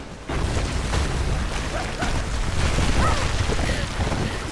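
A structure collapsing in the Rise of the Tomb Raider video game gives a loud, dense rumble with crashing debris bursts that continue steadily, with no pause, after a brief quieter start.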